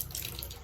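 Water runs steadily from a tap into a bathtub in an off-grid cabin fitted with a gravity-fed hot water system, a continuous close rushing splash with no voices.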